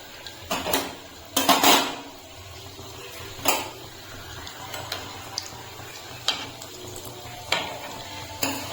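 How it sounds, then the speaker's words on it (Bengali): Chocolate buns fry in a small pan of medium-hot oil, a low steady sizzle broken by several sharp metallic clinks of utensils against the pan. "তেলটা মিডিয়াম গরম হয়ে গেছে এখন আমি একটা করে ছেড়ে দিচ্ছি"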